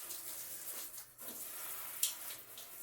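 Water hisses steadily from a handheld 8-inch rain shower head combo on its spray setting, a soft, even, fine-spray rush heard close up with no talking.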